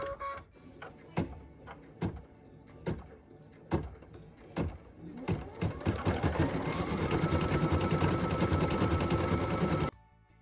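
A sewing machine stitches petal details on a Christmas ornament: a few sharp separate clicks first, then a steady close mechanical whir that runs for several seconds and stops abruptly.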